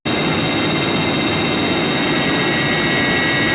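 A planet screaming in rage in Doctor Who's Inferno: a loud, sustained roaring rumble layered with high whining tones, steady and unbroken for several seconds with no voices.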